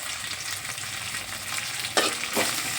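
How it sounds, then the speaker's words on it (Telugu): Onions and chillies fry in hot oil in a pan, a steady close sizzle with a couple of sharper scraping stirs near the end, and no one speaks. "ఉల్లిగడ్డలు ఎర్రపడే వరకు కలుపుకోవాలి. మిరపకాయలు కూడా యాడ్ చేసుకోవాలి ఫ్రెండ్స్."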